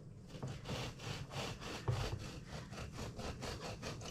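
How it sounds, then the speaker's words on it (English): A knife saws across the top of a homemade Victoria sponge birthday cake, giving a quiet, close, rhythmic back-and-forth rasp of about a dozen even strokes with no talking. "So I'm just going to trim or cut the top so that the top half sits nice and neat."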